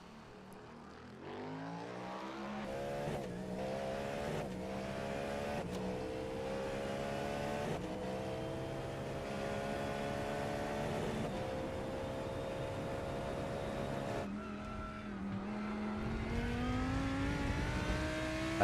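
A Cadillac sports prototype race car engine in the iRacing simulator drones loudly and continuously, revving through gear changes with rising and falling pitch and sharp shift breaks, heard from inside the cockpit.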